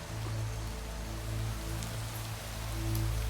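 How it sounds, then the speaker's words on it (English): Steady rain in the Minecraft video game, an even hiss of falling drops that holds constant throughout with no voices. "Oh no, it's raining."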